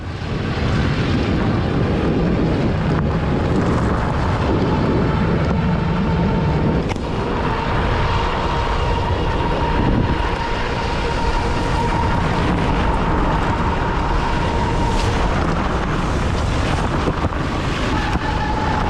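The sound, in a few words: wind while riding a bike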